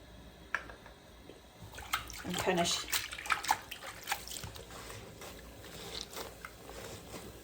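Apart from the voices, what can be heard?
hand washing fabric in water with laundry detergent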